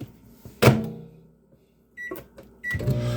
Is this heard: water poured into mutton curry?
no